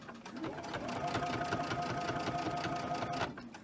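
A sewing machine stitches a fabric sleep mask, starting up and running in a fast, even mechanical whir for about three seconds before stopping, heard close and fairly quiet.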